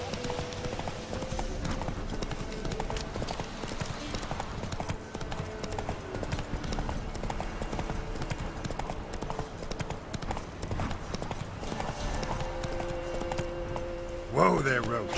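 Roach, a horse in The Witcher 3, trotting with steady clip-clopping hooves over continuous game ambience, with voices talking throughout and a brief sharper sound near the end.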